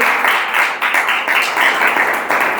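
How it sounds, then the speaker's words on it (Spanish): A church congregation applauds in praise, a dense, steady clapping that fills the room with slight swells and no break, heard alone without talk. "¿Por qué no le da un aplauso al Señor?"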